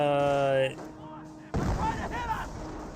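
A mortar shell strikes an anti-tank gun in Company of Heroes: a single loud, close impact blast with a rumbling tail, following a sustained tonal engine-like drone.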